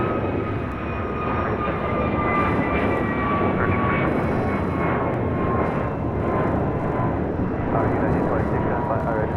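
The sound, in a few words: jet airliner on runway at LAX airport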